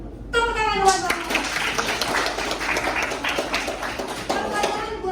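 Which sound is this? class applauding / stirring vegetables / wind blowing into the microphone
class applauding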